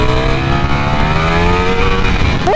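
Ducati Streetfighter V4 motorcycle engine revving hard under acceleration, a loud close steady climbing whine with rising harmonics, ending in a sharp upshift sweep.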